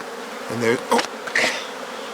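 Close, loud buzzing of honeybees at an open hive in short bursts, a few bees droning past near the microphone.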